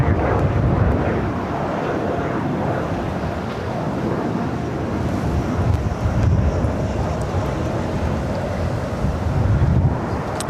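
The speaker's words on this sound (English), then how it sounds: "the Dreamliner now rolling down at 25 right" A Boeing 787 Dreamliner rolls down runway 25 right at LAX, a broad, distant jet roar that swells and fades beneath heavy wind buffeting on the microphone.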